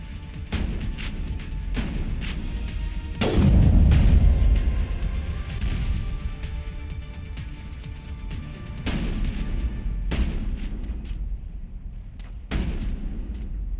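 Sniper rifle fire in Mass Effect, several sharp loud shots spaced apart, one followed by a heavy booming blast, over constant game background noise.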